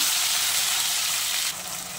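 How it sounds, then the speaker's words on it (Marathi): Spice paste for misal sizzles and spits in hot oil on a stove, a steady close-up frying hiss that drops slightly in intensity near the end; no voices. "थोडंसं पाणी म्हणजे मॉइश्चर असल्यामुळे ते तेलामध्ये तडतडू शकतं, उडू शकतं"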